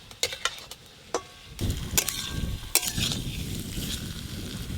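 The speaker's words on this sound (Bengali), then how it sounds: "ভাজা মশলা দিয়ে আলুর সঙ্গে বেশ ভালো করে কষে নেব।" Fried potatoes being stirred with ground roasted spices in a pan for vegetarian aloo dum, with soft sizzling under sharp spatula scrapes and clinks against the pan, then a steadier, louder frying hiss in the second half.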